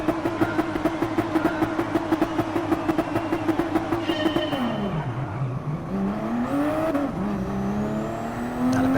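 Race car engines at the rolling start of a Supra GT Cup race at Fuji in a driving video game: a loud, steady engine drone with a rapid pulsing, then a gear change dips the pitch before it climbs again under acceleration.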